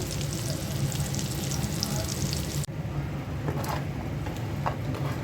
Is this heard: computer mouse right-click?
no